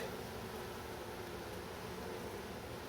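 Honey bees from a winter-survivor colony buzz steadily at a nuc hive during a late-July apiary checkup, a faint, continuous hum with no talk.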